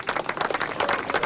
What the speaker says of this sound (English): Right now you can hear claps and screams as there is excitement.